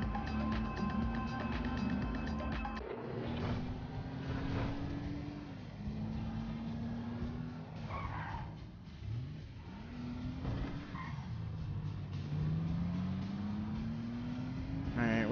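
Fire truck driven through city streets in Grand Theft Auto 5, its engine droning and rising in pitch through repeated gear shifts across the whole stretch, steady and close, with no talk over it.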